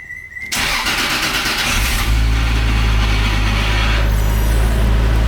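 A Toyota Chaser with a 1JZ engine cranks briefly and catches, then settles into a loud, steady idle close by, with no talking.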